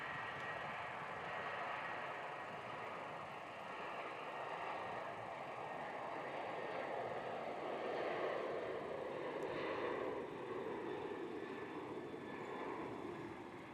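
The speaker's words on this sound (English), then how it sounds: "There we are, the Virgin Australia Velocity 887, Melbourne to Sydney." A Virgin Australia airliner on its Melbourne to Sydney flight taking off at Melbourne Airport, a broad steady jet roar heard from a distance that swells slightly and holds for several seconds.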